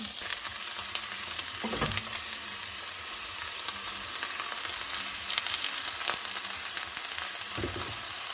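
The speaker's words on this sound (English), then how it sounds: "we want to cook this until our onions are about translucent. I want to get this all nice and golden brown" Onions and bell peppers fry in a pan, a steady soft sizzle and crackle with a few scraping stirs, fairly quiet and with no talking.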